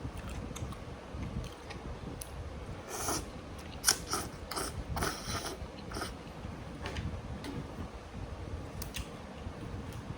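Someone eats noodle soup with fresh pork and chews crunchy bites up close. Quick crisp crunching bursts cluster in the middle and sit over a faint, steady background hiss, with no talking.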